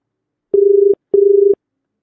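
Telephone exchange ringing tone at 400 Hz, the ISD-call type: two steady tone bursts of about 0.4 s each, separated by a short gap, clean and alone with no voices.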